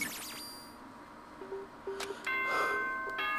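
A bright electronic chime rings out in the video game Danganronpa: Trigger Happy Havoc, a series of clear ringing tones and pings that builds into a sustained, louder multi-note chord toward the end.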